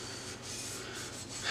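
A cloth rubs steadily around a tumbler cup, wiping it clean before powder coating; the soft, continuous scrubbing hiss is quiet and close, rising and falling slightly with each pass.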